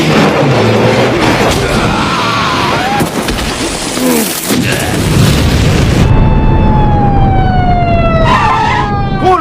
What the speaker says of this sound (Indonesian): Area ledakan dari si Baberu nampaknya sama besar dengan ledakan si Bada ataupun si Gemgo